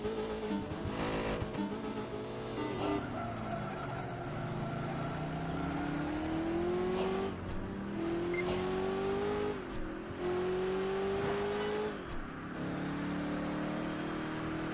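A Corvette Stingray engine in the racing game PGR 4 on Xbox 360 revs loudly and continuously, rising and falling through gear shifts with brief tire squeal, close and without talk.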